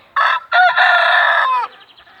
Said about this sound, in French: Là on a ma petite poule fétiche de mon élevage.